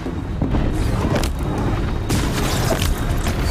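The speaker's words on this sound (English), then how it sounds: "So let's go ahead and give some explosions" Explosions in the Horizon Zero Dawn video game, a dense continuous rumble of booming blasts with sharp bursts near one and two seconds, loud and close, no talk over it.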